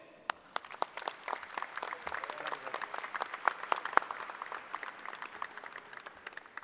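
A university commencement audience applauds at Murray State, starting with a few scattered claps that quickly swell into a soft, fairly distant, sustained round of applause in a large hall.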